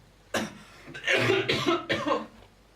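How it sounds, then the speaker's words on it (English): A person coughs several times in a short, rough burst, close and fairly loud. "Sorry about the cough."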